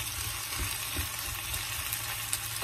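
Diced potatoes with squid and corn fry in a pan, giving a steady close hiss and sizzle with faint crackles throughout, and no talk over it.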